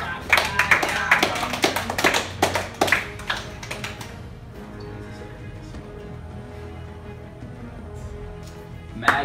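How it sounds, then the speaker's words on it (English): Hand clapping during an elimination-style reality game show's safety announcement, a burst of sharp claps in the first few seconds, then fading into a quiet room hum. "I'm gonna clap"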